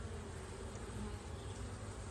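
A cluster of honeybees hums and fans around a swarm box in a bee yard, a faint, steady buzzing drone with no voices.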